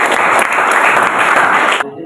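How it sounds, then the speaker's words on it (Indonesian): Classmates in a classroom clap together in a dense, steady burst of applause lasting nearly two seconds, then it cuts off abruptly. "Tepuk tangan dulu teman-temannya"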